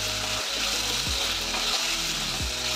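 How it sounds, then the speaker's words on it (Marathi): Tomatoes fry and sizzle with onion masala in a pan for a pepper prawn dish, a steady close hiss broken by several scraping stirs of a spatula, with no talk. "टोमॅटोज पण आपल्याला व्यवस्थित फ्राय करून घ्यायचे"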